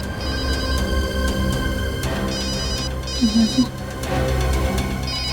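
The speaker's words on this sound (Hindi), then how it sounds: "कब से फोन बज रहा है, उठा लो।" A mobile phone rings with a loud, steady electronic ringtone that repeats its melodic pattern close by for several seconds.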